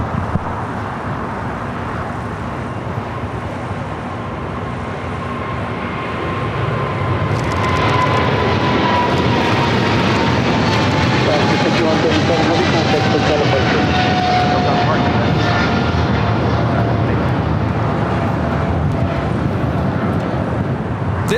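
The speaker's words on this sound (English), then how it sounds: "It's the 777 freighter now rolling down at 25 left." A United Boeing 777 freighter rolls down runway 25L at LAX on takeoff, its jet engines swelling from a steady roar into a loud, sustained thunder partway through, with a rising whine heard over a voice talking.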